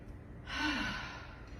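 A long, audible exhale through an open mouth during a gentle yoga session, rising and then tapering off slowly as a single breath, close and soft.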